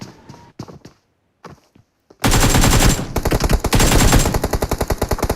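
Video game gunfire: a few scattered single shots in sparse bursts, then dense, loud rapid automatic fire rattling continuously, close and alone.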